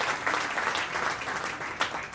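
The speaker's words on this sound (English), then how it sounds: "I think they deserve a round of applause tonight as well, ladies and gentlemen" A round of applause rises from the audience at an ecumenical investiture ceremony of the Knights of Malta, steady dense clapping from a sizable crowd throughout the short stretch.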